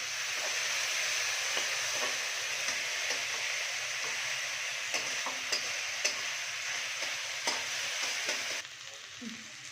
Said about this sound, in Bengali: পেঁয়াজটাকে একটু ব্রাউন হওয়া পর্যন্ত এটাকে ভালো করে নাড়তে থাকবো।